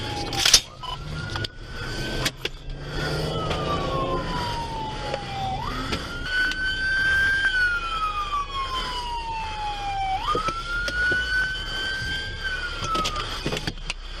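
Police car sirens wail during a pursuit, a loud rising and falling tone sweeping up and down several times over traffic and engine noise, with a sharp bang near the start.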